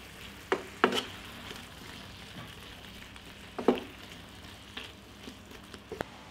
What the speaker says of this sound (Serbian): Posolit ću paradajz, dodat ću bosiljka, origana, bibera po ukusu i nastavljamo sve da pržimo.